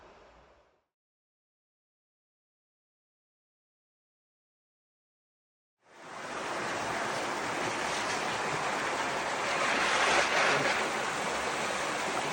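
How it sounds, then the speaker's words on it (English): Water rushes loudly and steadily through a mill race at a mill in France, a dense continuous roar that starts abruptly after several seconds of near silence and holds on to the end. "Mill race at the mill in France."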